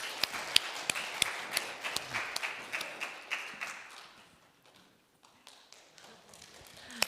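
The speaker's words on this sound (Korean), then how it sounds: "우리 나오실 때 우리 마음을 다한 박수로 환영하면 좋겠습니다" A church congregation gives scattered applause to welcome a speaker to the front. The clapping is moderately close and fades out after about four seconds into near quiet, with a few isolated taps.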